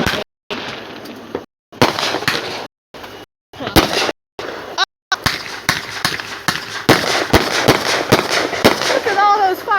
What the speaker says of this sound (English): Look at all those fireworks.